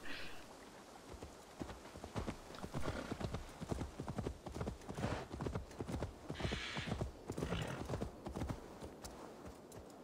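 Horse hooves clip-clop in a quick, steady trotting rhythm, close and clear, with a brief whinny-like sound in the mix, from the video game Assassin's Creed Valhalla.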